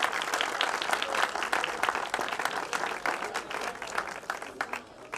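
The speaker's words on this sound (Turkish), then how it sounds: "finalin sultanları için kocaman bir alkış rica ediyorum" Audience applause for the national women's volleyball team, a dense, loud burst of clapping that continues steadily before thinning slightly at the end.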